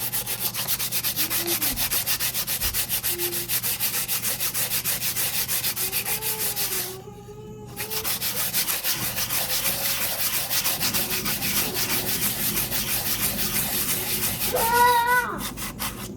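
Sandpaper rubbed back and forth over a wooden spoon, a continuous close, loud scratchy rasp with a short pause partway through and a brief squeak near the end.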